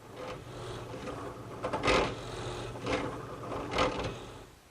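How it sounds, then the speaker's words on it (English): A 3/4 inch bit bores a hole through wood for a ladderback chair stretcher, giving a rough, grinding rasp that swells in a few strong surges over a steady background hum, close and fairly loud. "now I'll switch to a 3/4 inch bit and drill the hole for the side stretcher"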